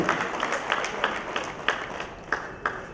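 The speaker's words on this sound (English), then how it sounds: "can we have once again a huge round of applause for Kavita Rajesh ji?" Applause from an audience at a women's awards event in Telangana, with sharp individual claps standing out at a steady, spaced rhythm over a thin wash of crowd noise.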